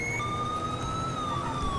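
Police car siren in GTA5, a continuous wailing tone that holds steady and then slowly falls in pitch, alone over a low rumbling background.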